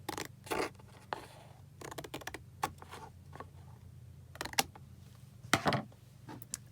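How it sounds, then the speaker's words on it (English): Close-up scissors snipping through paper card, a series of crisp irregular cuts separated by brief quiet pauses, with no talking. "I'm gonna bring in my scissors here and we're just gonna trim off these edges here"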